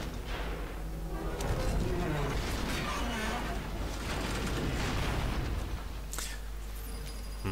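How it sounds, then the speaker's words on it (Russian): Rumbling booms and blasts erupt in the video game Enter the Matrix, a dense, noisy run of explosions lasting several seconds at moderate loudness, with a voice talking over part of it. "Кажется, на то место, где сейчас будет все взрываться"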